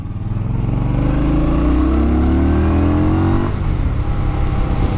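A 2018 Indian Scout Bobber motorcycle accelerates hard, its engine note rising steadily through the revs for a few seconds, then easing off, loud and close throughout.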